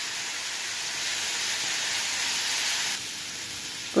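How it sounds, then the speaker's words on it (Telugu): Ridge gourd peel frying in hot oil in a pan gives a steady, dense hiss and sizzle that runs unbroken, easing slightly partway through, with no voices. "తీసుకొని తొక్క బాగా కడుక్కొని దాన్ని నూనె వేసుకొని ఇందులో వేయించుకోవాలి."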